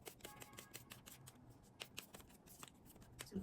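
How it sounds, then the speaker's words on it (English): Crisp riffling taps of a card deck being shuffled, quick rapid flicks in bursts, close and quiet with no talking. "I'm also going to shuffle this deck."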